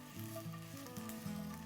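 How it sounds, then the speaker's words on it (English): Paneer sizzles and fries loudly on high flame in a hot pan for Paneer 65, a steady crackling hiss with a stirring scrape, close up and brief. "And now is the time to toss this. And all this happens on high flame."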